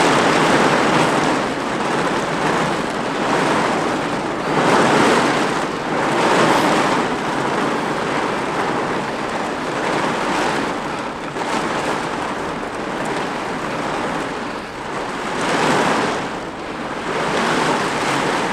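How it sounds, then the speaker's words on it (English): Heavy rain bucketing down roars as a loud, broad hiss, swelling and easing in slow surges like gusts, with no talking. "can you hear the rain absolutely bucketing down?"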